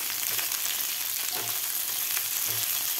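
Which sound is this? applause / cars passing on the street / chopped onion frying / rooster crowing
chopped onion frying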